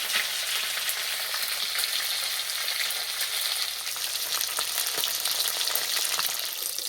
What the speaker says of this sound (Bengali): মাছগুলো একদম লাল লাল করে ভেজে নেব।